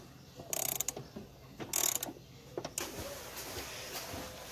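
A ratchet with a socket clicks in quick bursts while loosening a bolt on a 2004 Toyota Sienna, a few short close ratcheting runs separated by pauses, then softer scraping.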